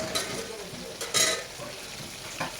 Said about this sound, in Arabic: بعد ما البصله تدخل كده في التحمير هحطهم كلهم اشوحهم تشويح